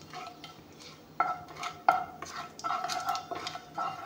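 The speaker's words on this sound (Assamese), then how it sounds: "এতিয়া পাঁচফোৰণখিনি অলপমান ভাজি ল'ম।" Panch phoron spices frying in oil for a kuhiya fish curry, stirred with a utensil that clinks and scrapes against the pan in irregular bursts over a soft sizzle, with no voices.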